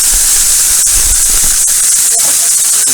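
Onions sizzling in a hot pan while cooking beef tips, a steady broadband hiss with faint crackles throughout, fairly loud and close, with no talking.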